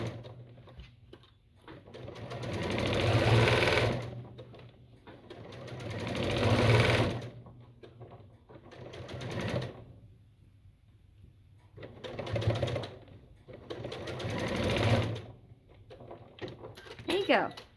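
A sewing machine stitches a fabric basket seam in five separate slow bursts of rapid, close needle chatter with quiet pauses between them, and a voice speaks softly over the machine.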